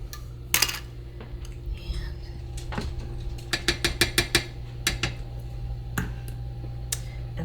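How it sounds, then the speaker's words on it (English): A utensil chops and scrapes at jelly inside a glass jar, a run of quick, close, clinking taps and knocks with short pauses between bursts, under a faint background hum. "So you kind of just need to chop it up within the jar to get it to come out of the jar."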